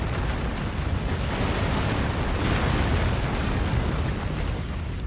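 A base blows up in the MechWarrior 5 video game with a heavy, continuous explosive roar, dense and loud from start to finish with no break.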